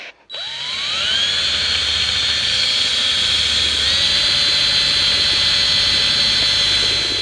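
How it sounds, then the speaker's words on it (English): A high-pitched whining drill with a 1 1/4 inch hole saw spins up after a brief click and cuts steadily through a water cistern tank, a loud continuous shriek with a slight pitch shift midway. "you're going to use a 1 1/4 inch hole saw"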